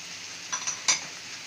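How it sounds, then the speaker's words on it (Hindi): Chicken pasta sauce with vinegar, crushed dried chili and cumin is stirred in a pan over a steady sizzle, with a few light scraping clinks of the utensil standing out. "और इसको अच्छी तरह मिक्स करेंगे"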